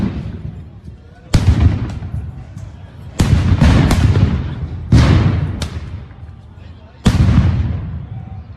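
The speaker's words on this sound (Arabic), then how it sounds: "شوفوا كم قنبلة صوت طلعوا على بيصلوا" Stun grenades go off outdoors near worshippers at Al-Aqsa, several loud booming blasts spaced a second or two apart. Each leaves a long rumbling echo, and a crowd can be heard faintly underneath.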